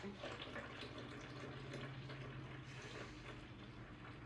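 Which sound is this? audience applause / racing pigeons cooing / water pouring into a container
water pouring into a container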